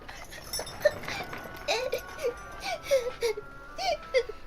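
A boy weeps in a Turkish radio drama about the Prophet's life, sobbing and whimpering in short repeated bursts close to the microphone, with faint hoof clip-clop and a low background behind him.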